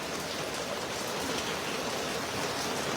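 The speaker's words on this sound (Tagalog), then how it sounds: "Bumabagsak ang ulan." Heavy rain pouring down on an island, a dense, loud, unbroken roar of falling water with no talking over it.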